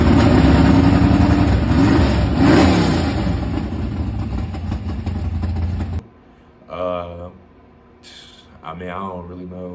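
A 1985 Buick Regal engine revving in loud rising and falling bursts over a rumbling idle, then cutting away to someone talking in a quiet room.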